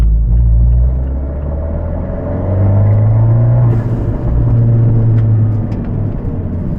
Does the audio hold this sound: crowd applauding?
no